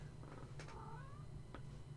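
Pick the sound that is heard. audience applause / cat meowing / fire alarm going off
cat meowing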